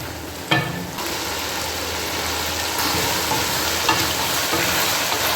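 Mutton cooking in a karahi for a white karahi dish, a loud continuous sizzle with a sharp spatula scrape at the start and occasional stirring knocks throughout, no one speaking.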